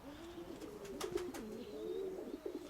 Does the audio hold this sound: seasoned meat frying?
no